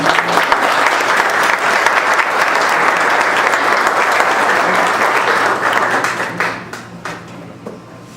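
Sustained audience applause at an academic forum on procedural law in Salamanca, a dense wash of many hands clapping that holds steady for several seconds, then thins out and fades toward the end.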